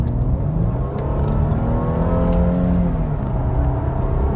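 The 3.5-litre engine of a 2014 Mercedes SL 350 revs and runs loudly up close, rising and falling in pitch with a steady rumbling drone.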